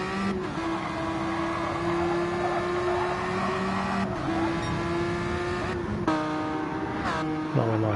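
GT1 race car engine in a racing video game at Interlagos, a sustained droning whine rising and dropping through gear shifts, loud and continuous.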